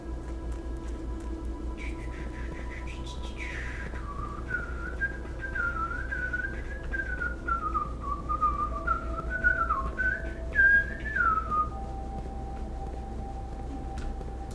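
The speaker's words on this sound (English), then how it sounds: "Nonsensical whistling. That's what I do best." A person whistles a rambling, tuneless melody that slides up and down in pitch for over ten seconds, close and fairly loud against a steady low background hum, with no talking.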